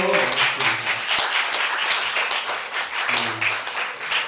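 A church young adults' congregation gives a round of applause, moderately loud clapping throughout, with brief talking early on and again near the end.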